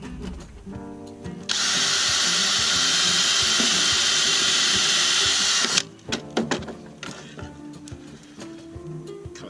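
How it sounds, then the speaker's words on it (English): A power drill boring a hole through a garden cane gives one continuous, loud whine of about four seconds, with clicks and handling knocks before and after. "drill it out."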